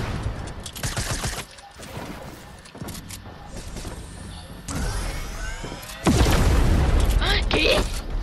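Gunfire in the video game Fortnite comes in sharp bursts and booms amid busy game noise, with players talking over the action.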